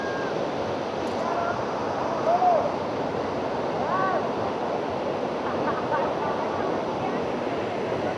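Salto waterfall near Cuetzalan in the Sierra Norte de Puebla, a steady broadband rush of falling water that fills the whole clip, with a few faint bird calls above it.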